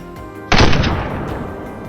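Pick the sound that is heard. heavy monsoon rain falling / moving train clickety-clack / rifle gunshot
rifle gunshot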